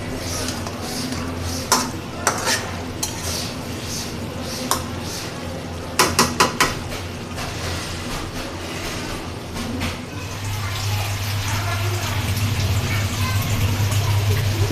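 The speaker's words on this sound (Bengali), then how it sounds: "মাংস বসিয়ে দিলাম একটু কষানোর জন্য," Duck meat is stirred and braised in a pan. A spatula clanks and scrapes against the metal in scattered bursts over a low, steady cooking noise, and a voice talks at times.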